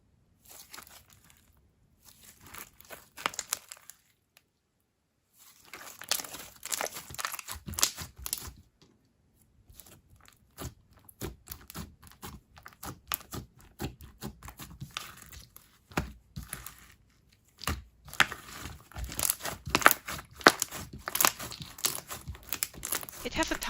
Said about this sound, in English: it's very stretchy and a bit clicky. It makes nice bubble pops.